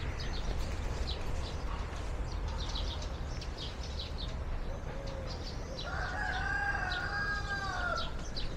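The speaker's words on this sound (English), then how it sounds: "Oh yeah, we got some chickens, baby. Some roosters." Roosters crow repeatedly on a hillside above Thessaloniki, the calls fairly near and clear over a steady outdoor hum, with more clucking fowl around and a long crow ringing out near the end.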